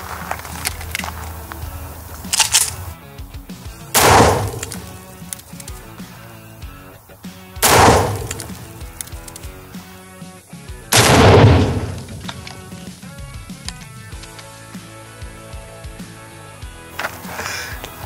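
A .40 Smith & Wesson Infinity pistol fired at exploding targets outdoors, several loud, sharp reports spaced a few seconds apart, each followed by a booming blast and trailing echo, with quieter handling noises between.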